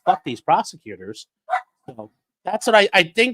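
A dog barks a few short times in the background, the barks sounding under and between a man's close, continuous talking.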